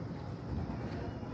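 Steady outdoor ambience at the river launch ghat in Chalna, Bangladesh: continuous wind-blown rushing with a low rumble underneath, even and unbroken over a brief moment.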